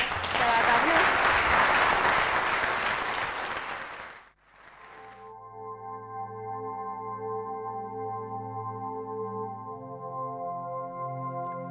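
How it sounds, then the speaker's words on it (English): Conference audience applauding the governors at a State Bank of Pakistan anniversary session: several seconds of full, loud clapping that quickly fades out, then gives way to sustained musical tones. "If we can have a big round of applause for our governors."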